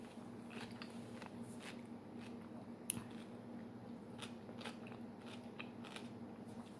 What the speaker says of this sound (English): I was just about to take a bite of my cucumber